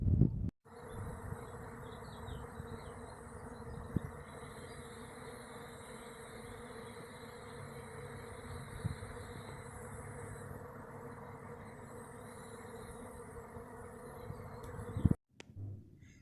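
A swarm of around 10,000 honey bees gathered at a bee trap produces a steady, dense, close buzzing drone that holds evenly throughout, cut off by a couple of brief handling knocks at the start and end.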